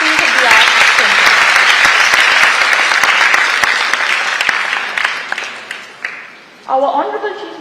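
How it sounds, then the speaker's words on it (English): An audience at the launch of an IVF centre claps loudly and steadily for several seconds, the applause gradually thinning out before a voice begins speaking near the end. "a big round of applause for this state-of-the-art center"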